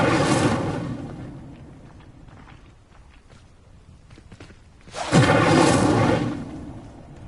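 Incendio fire spell cast in the game Hogwarts Legacy, a loud roaring burst of flame at the start and another just after five seconds, with softer crackles and taps in between.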